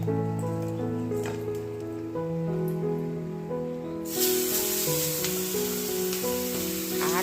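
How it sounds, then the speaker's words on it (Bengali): Pabda fish frying in mustard oil in a pan, a bright crackling sizzle that swells halfway through, heard under sustained background music. "পাবদা মাছ এখন ভাজতে বসে দেবে"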